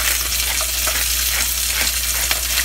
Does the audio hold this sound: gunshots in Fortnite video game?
no